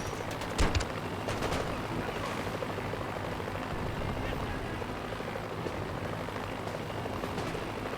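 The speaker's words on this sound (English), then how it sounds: "Fire on the helicopter!" Gunfire in the Mercenaries 2: World in Flames video game aimed at a helicopter, with a few sharp shots early over a continuous rumbling din of weapons and engine noise, fairly loud throughout.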